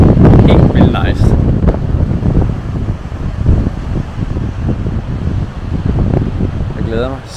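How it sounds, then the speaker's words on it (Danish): Wind gusts roar across the microphone at a coastal viewpoint on a motorcycle trip to Portugal. The buffeting is steady and loud for the whole stretch, and a voice speaks briefly at the start and again near the end. "Ja, I må lige leve med, at det blæser. Det blæser lidt her, ikke?"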